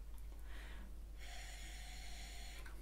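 Breathy, toneless rush of air through a clarinet blown too slowly, with soft hissing puffs and no clear pitch, heard alone at low volume.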